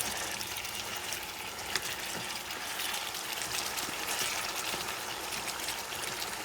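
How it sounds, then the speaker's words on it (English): Chicken broth trickles and splashes as it is poured into a Puerto Rican-style chicken breast stew, a soft, continuous liquid stream heard up close. "That's the step of adding the liquid. You can use water. I'm going to use chicken broth."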